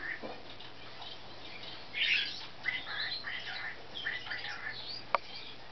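African grey parrot in a home setting gives several short chirps and squawks, moderately close, with soft human talk in the background.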